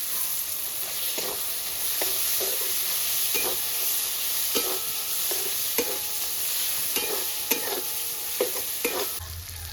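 Tomatoes, salt and turmeric frying in a pan for a Bengali fish curry with mustard and poppy seed, a steady close sizzle broken by repeated scraping stirs, with no voices.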